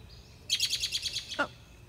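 Outdoors by a mailbox, a bird gives a rapid series of bright, close chirps, then a couple of separate descending notes, over a low, quiet background.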